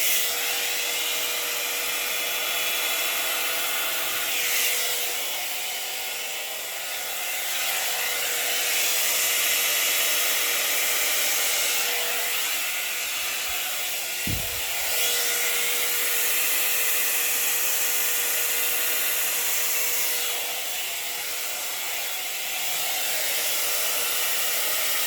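A handheld electric air blower roars steadily for a Dutch pour painting, its loud, continuous whoosh swelling and easing as it is aimed across the paint, with a brief knock partway through.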